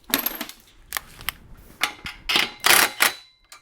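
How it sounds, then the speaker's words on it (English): Metallic clinks and ratcheting scrapes come from loosening a clamp on a car exhaust pipe, heard as irregular sharp bursts close by with short gaps between, and no voices. "So I'm gonna try and loosen this clamp and push it back."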